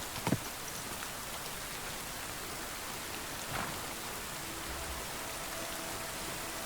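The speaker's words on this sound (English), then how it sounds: "I love the sound of rain coming through the forest." Steady rain falling all around a forest in the video game Kingdom Come: Deliverance II, a dense even hiss with a few faint distant thumps; no one speaks.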